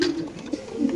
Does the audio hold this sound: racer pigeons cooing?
yes